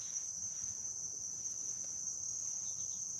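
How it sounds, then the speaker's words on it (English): Crickets chirp at night in a thin, continuous high trill, steady and fairly faint, with no voices over it. "The crickets are out again."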